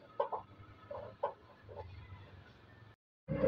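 Chickens cluck in short bursts, several soft calls spaced over a few seconds, with a louder cluck right at the end after a brief silence.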